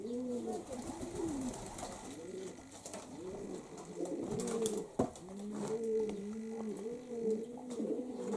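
Pigeons coo at a small dovecote in the morning, with repeated rolling coos overlapping in a steady rhythm from several nearby birds, continuing throughout with faint background noise.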